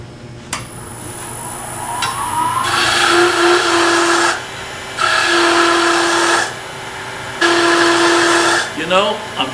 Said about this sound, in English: I'm doing this with the skew chisel this time just for variety. No reason I can't. We learned how to do a planing cut. That's what this is.